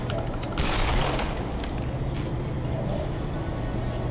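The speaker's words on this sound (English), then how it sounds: "That was a sniper rifle shot." Sniper rifle firing in Cyberpunk 2077, a single sharp loud crack followed by a brief ringing tail, set against a steady low background rumble of the game world.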